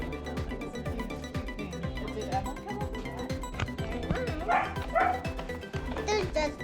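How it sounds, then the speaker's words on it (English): A dog barks a few times at a backyard birthday party, the barks buried in loud music and people chattering nearby. "There's just a dog."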